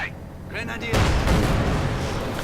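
Mortar rounds land in a Company of Heroes 2 match, a heavy rumbling burst of explosions and gunfire breaking in sharply and rolling on, loud and close, after brief talk at the start.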